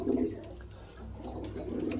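A house-flown Madras pigeon coos softly and fairly close, with low repeated coos through a quiet background and a few faint chirps.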